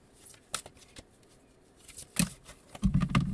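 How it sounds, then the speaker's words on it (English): Oversized tarot cards being shuffled by hand, giving a series of crisp riffling flicks and taps that build into a denser, louder burst of shuffling near the end. "I know how to shuffle cards, but these cards are too big."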